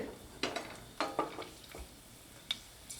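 Soft sizzling of cinnamon sticks and cloves frying in hot oil, with a few scattered clinks and a stirring scrape close by.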